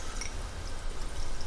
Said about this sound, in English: 80 to 100 milliliter of deionized water.